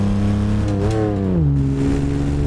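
A car engine revs in the BeamNG.Drive driving game, one loud steady drone that rises briefly in pitch and then settles back to a lower hum.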